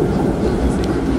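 A tram riding through the streets of Rome gives a loud, steady, close rumble of wheels and carriage noise that runs for the whole brief moment.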